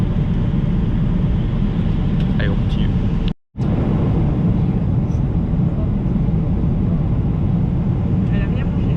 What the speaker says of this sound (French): ça fait un barouf dans l'avion et ça coupe tout